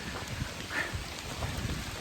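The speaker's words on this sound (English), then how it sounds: "Now it's raining" Steady rain falling during a summer thunderstorm on the Sheltowee Trace hiking trail, a faint, even hiss of drops with no voices.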